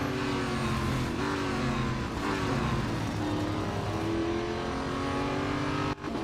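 Duqueine D0 race car engine in the Real Racing 3 mobile game, a loud, steady high-revving drone with shifting pitch as the car brakes and accelerates through corners, holding constantly close throughout.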